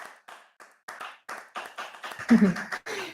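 A sparse round of applause at a panel event, a few separated bursts of hand clapping in uneven rhythm, close and thin, with a voice briefly heard toward the end.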